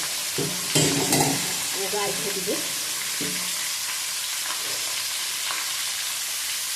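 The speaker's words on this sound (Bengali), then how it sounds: "মাছটা ভাজা হোক, আমি ঢেকে দিই" Pabda fish frying in a covered pan, a soft, steady sizzle running throughout, with a few brief clanks near the start and a short spoken remark over it.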